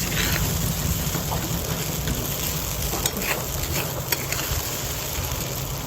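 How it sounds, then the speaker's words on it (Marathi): Sabudana khichdi mixed with peanut powder in a pan, a steady close sizzle and frying crackle with soft scraping strokes running throughout. "आणि शेंगदाण्याचं कूटसुद्धा मिक्स करा पूर्णपणे"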